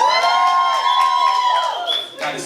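Women in a New York hip-hop concert crowd cheer and shriek, a dense high-pitched roar that holds steady and then dips slightly near the end.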